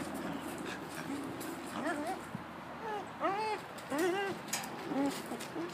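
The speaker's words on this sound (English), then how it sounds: "And that's my dog." A dog whimpers and yips in a series of high, rising whines, with brief breaks between them, heard at moderate distance over a low background hum.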